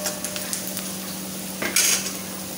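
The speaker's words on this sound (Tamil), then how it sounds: "வெங்காயம் நல்லா வதங்கட்டும்" Onion sautés in a pan for rava upma, giving a steady, moderate hiss of frying with a few light metallic clinks of stirring and a brief louder scrape near the end.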